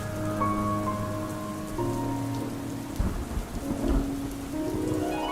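Heavy rain hisses steadily, and a deep rumble of thunder rolls in midway through. A sustained musical score plays over the storm in this television drama scene.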